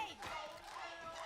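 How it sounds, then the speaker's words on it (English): Crowd at an MIBR esports match watch party cheering and shouting loudly, a dense continuous roar with voices rising through it over about a second. "The MIBR section of this crowd going nuts right now."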